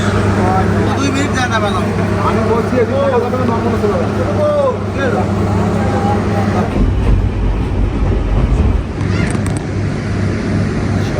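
The Burimari Express rumbles into Gaibandha station, a continuous loud, low train rumble with rattling and wind noise while someone talks over it throughout.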